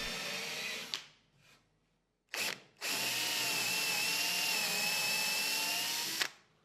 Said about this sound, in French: Puis nous perçons nos centres jusqu'à la profondeur indiquée par un ruban adhésif.